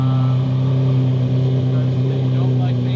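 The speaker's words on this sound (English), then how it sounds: "Carson, why does the Aventador sound like angry, grumpy old men?" A Lamborghini Aventador's engine idles steadily and loud up close, a constant deep throbbing drone with no revs rising or falling.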